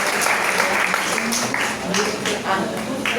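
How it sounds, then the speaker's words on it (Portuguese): Audience at a poetry reading in a library in Jaboatão dos Guararapes breaks into steady applause, a dense wash of clapping with voices and cheers mixed in throughout. "Eu peço uma salva de palmas para Nildo."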